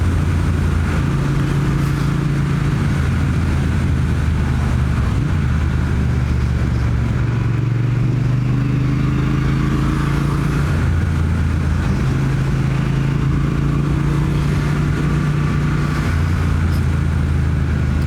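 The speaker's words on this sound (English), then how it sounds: "this 1200cc engine is just insane" A 2019 Triumph Speed Twin with a 1200cc engine runs steadily while being ridden, giving a loud, continuous low engine drone with shifting tones and wind noise throughout.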